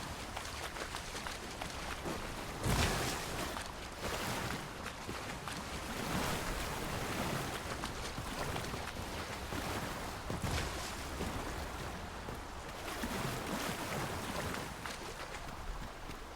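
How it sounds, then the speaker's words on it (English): Water seeps through cracks beside a blocked road in Dragon's Dogma 2, a steady, fairly faint rushing wash with a few louder surges and no talking. "Water is seeping through the cracks."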